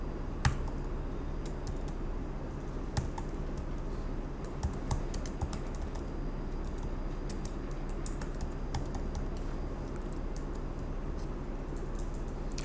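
Steady computer keyboard typing goes on throughout, with fast, light clicks and a few sharper keystrokes standing out, fairly close and quiet, with no talking.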